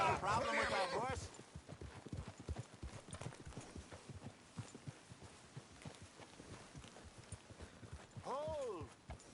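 Steady clip-clop of horse hooves walking at an even rhythm in a video game, with a horse's whinny at the start and again near the end, plus some talk.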